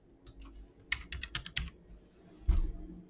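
Short bursts of typing on a computer keyboard while entering a material name in building design software, quick clustered keystrokes with a louder final key press, close and clear over quiet room tone.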